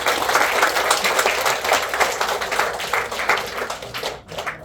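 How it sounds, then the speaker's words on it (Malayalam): An audience claps in a dense, steady round of applause at a lamp lighting ceremony for a film launch, then the clapping tapers off near the end. "നല്ലൊരു കയ്യടി"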